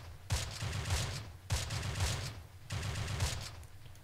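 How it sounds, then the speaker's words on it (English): In the WWII strategy game Close Combat, an MG42 and a .30 cal machine gun trade fire in three long rattling bursts separated by short pauses, loud and close with no talking. "MG42 versus a 30 cal"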